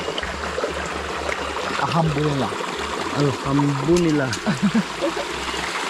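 Stream water trickles and flows steadily in the background, swollen after rain, while someone speaks briefly over it, with low rhythmic chirping from frogs or insects nearby.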